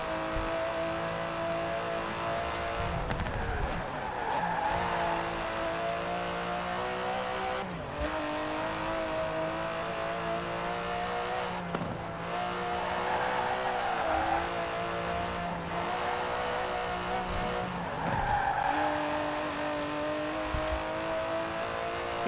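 Aston Martin DB11 driving in Forza Horizon 4, its engine holding a steady, loud drone with rising and falling revs and brief shifts, running continuously throughout.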